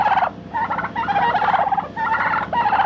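A flock of turkeys gobbles loudly and close by in repeated bursts of rapid, warbling calls on a chilly, windy morning.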